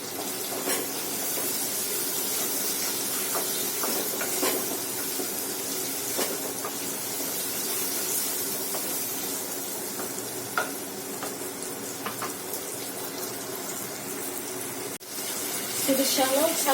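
Shallots and onion fry in a pan with a little salt, giving a steady sizzle with soft scraping stirs throughout and a brief clatter near the end.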